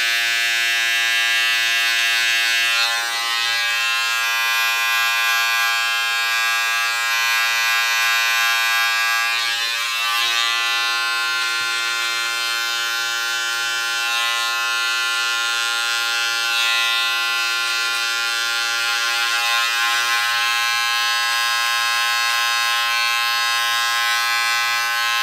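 A beard trimmer fitted with a half guard buzzes steadily and loudly for the whole stretch, a constant electric hum with only slight shifts as it moves through the beard.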